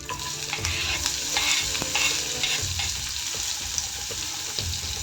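Curry leaves, mustard seeds, cumin and onion fry in a pan for bhindi masala curry, a loud hissing sizzle with repeated stirring scrapes in a rough rhythm, close up and without voices.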